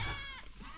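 A single goat on a farm bleats nearby, a wavering, nasal cry that trails off quickly and stands alone without speech.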